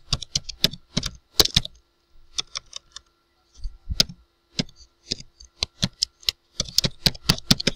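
Typing on a computer keyboard while writing JavaScript code, crisp key clicks in uneven bursts and short pauses, close and fairly quiet, with no talking.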